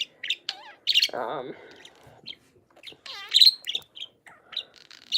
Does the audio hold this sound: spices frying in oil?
no